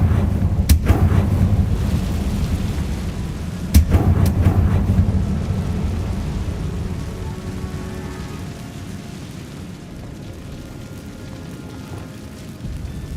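Confringo blasting-spell explosions from Hogwarts Legacy: two sharp, loud blasts early on, each trailing into a rumbling boom, then a steady low roar that slowly fades, with no voices.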